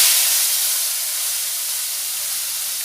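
Flat beans frying in oil in a pan for a prawn and potato curry give a loud, steady, broadband hiss that fades slightly after the first second, with no voices.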